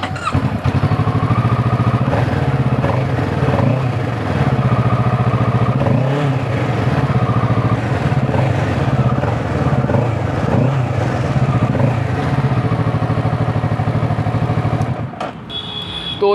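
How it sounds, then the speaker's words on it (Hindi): A Kawasaki Ninja 650 engine idles and revs steadily up close, a loud throaty exhaust rumble with mechanical clatter throughout, easing off near the end. "तो एक बार जो है वो एग्जॉस्ट की साउंड सुना देता हूँ"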